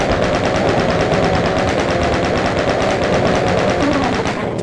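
Rapid, sustained machine-gun fire from a chaingunner in Doom, a dense, loud stream of evenly spaced shots with no pauses.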